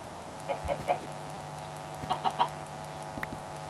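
Chicken clucking in Minecraft, two short bursts of three or four clipped clucks each over a steady low game hum, then a faint extra cluck near the end.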